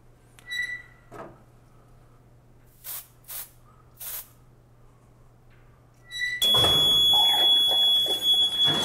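An electrically operated Viking deluge system goes into alarm: a few short electronic beeps and chirps, then a loud continuous alarm tone over a rush of released water and hiss that fills the rest.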